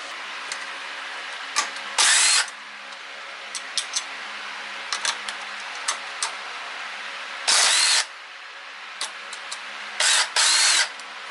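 Wrench or ratchet work loosening a nut on the engine mounts of a Honda CBR/VFR800 hybrid motorcycle project: scattered small metallic clicks and ticks with several short bursts of louder rasping, close by, no talk.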